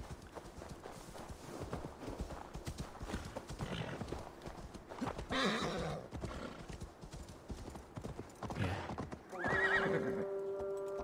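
Steady clip-clop of horse hooves at a quick gait, with a horse neighing loudly near the end amid busy game-like background sounds.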